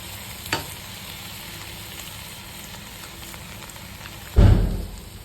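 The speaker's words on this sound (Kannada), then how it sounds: "ಈಗ ನಾನು ರೈಸ್ ಕೂಡ ಆ್ಯಡ್ ಮಾಡ್ತಾ ಇದ್ದೇನೆ." Cooked rice tipped into a pan of frying egg with mixed vegetables (carrot, beans, green peas): a steady background sizzle, a light clatter early on, then a loud, close scraping stir near the end that tails off.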